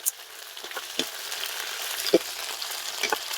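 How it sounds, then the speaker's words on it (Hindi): Beans sizzle as they roast in a pan over a wood-fired stove, a close, continuous crackle broken by a few sharper pops. "और जब हम फली सेक लेंगे थोड़ी, तब मजा आएगा खाने में।"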